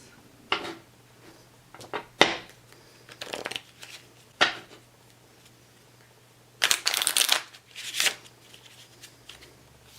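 A deck of playing cards being shuffled and picked through at close range, several separate bursts of riffling and sliding cards with quiet pauses between them.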